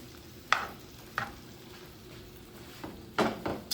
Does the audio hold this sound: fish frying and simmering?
yes